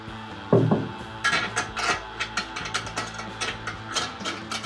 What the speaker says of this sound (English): The other deck end is threaded, so you just fit it in there like that. Put your axle in.